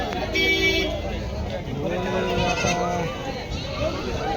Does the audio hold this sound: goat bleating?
yes